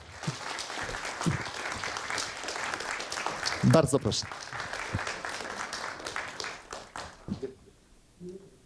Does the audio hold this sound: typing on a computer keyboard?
no